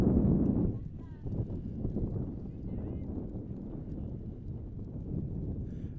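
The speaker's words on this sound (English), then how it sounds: "it's pretty much always windy here" Steady wind buffets the microphone on an exposed hilltop at an outdoor shooting event, a continuous low rumble with a stronger gust at the start, and faint voices underneath.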